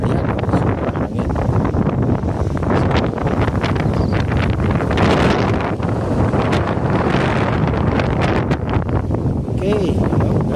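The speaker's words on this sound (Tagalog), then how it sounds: "Medyo mahangin na dito na area guys kasi this is a coastal park na" Strong wind at a coastal park in a business district in Davao City buffets the microphone in a loud, unbroken roar that rushes and swells for the whole stretch.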